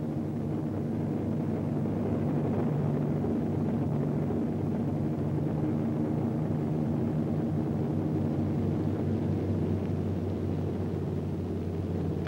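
Damaged WWII aircraft returning over the Pacific to land in the Marianas, one with its right outboard engine feathered, give a constant low piston-engine drone with a steady rumbling hum throughout.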